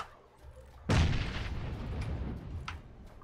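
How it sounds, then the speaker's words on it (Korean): A grenade explodes in PUBG: Battlegrounds with a sudden loud, close blast, followed by a rumbling decay that lingers for a couple of seconds. "저 일단 수류탄 던졌어요"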